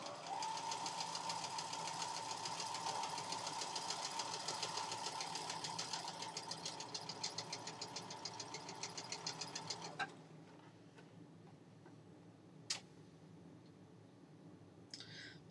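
A sewing machine chain piecing quilt triangles runs in a fast, steady rapid stitching rhythm for about ten seconds, then stops, leaving quiet room noise with a single sharp click.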